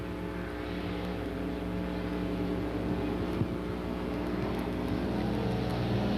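A pack of street stock race cars roars by on an oval track at a 1993 race, a dense, sustained engine drone that stays loud and steady throughout, with no voices.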